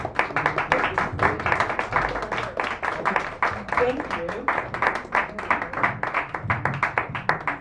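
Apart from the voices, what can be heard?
audience applause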